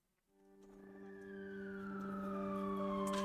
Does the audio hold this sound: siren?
yes